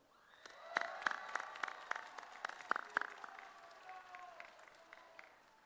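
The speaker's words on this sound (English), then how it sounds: "So let's all please give a short round of applause to our class council and advisors." Audience at a graduation ceremony breaks into a short round of applause, scattered claps rising quickly, peaking in the first few seconds, then thinning out and fading as the clapping dies down.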